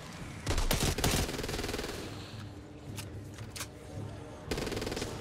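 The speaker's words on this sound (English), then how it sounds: "That's a minigun." Gunfire in the zombie shooter Back 4 Blood, a minigun among it, with dense rapid bursts near the start and again at the end under a steady background of game noise.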